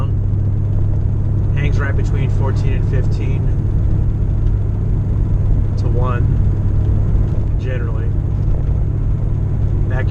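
A Ford Mustang cruising around town, its engine a steady low rumble and drone heard from inside the cabin, with someone talking over it throughout.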